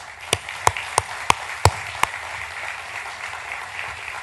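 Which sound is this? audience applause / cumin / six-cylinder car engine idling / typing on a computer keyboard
audience applause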